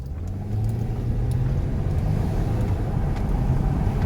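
A postie's vehicle passes on the road with a steady, close rumbling engine drone that holds throughout, with no voices.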